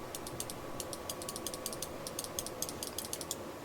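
Rapid, light plastic clicks from the buttons of a cleaned and repaired Razer Naga Epic gaming mouse, pressed in quick irregular bursts up close over a steady hiss, with no speech.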